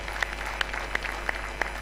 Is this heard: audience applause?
yes